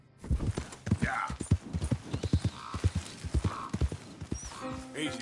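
Horse hooves beat out a fast, rhythmic clip-clop of a gallop in Red Dead Redemption 2, close and loud, with a short whinny and a rider urging the mount on with spoken commands.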